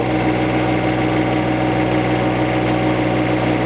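An engine held at a raised, steady speed of about 2,500 RPM, a loud, even drone with a constant pitch and no audible climb, with no voices.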